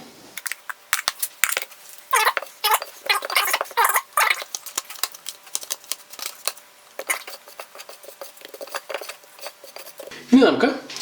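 Pieces of chicken coated in seasoned frying powder are tapped and shaken in a container, giving a rapid, uneven patter of close knocks and rustles, with a brief louder clatter at the end.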